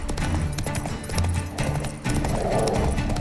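In the Witcher 3 video game, a horse gallops with quick, rhythmic hoofbeats, loud and close, over busy game sound with a brief whinny-like tone.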